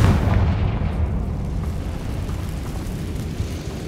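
A Confringo spell blast in Hogwarts Legacy, with a sharp explosive burst at the start followed by a low rolling rumble that fades steadily over a few seconds.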